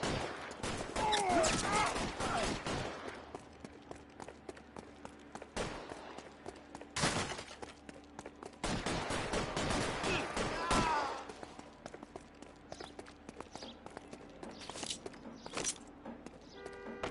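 Gunfire in the crime game L.A. Noire, bursts of shots and game battle noise in heavy clusters over about seventeen seconds, loud and dense at the start and again midway, with quieter stretches of ambience between.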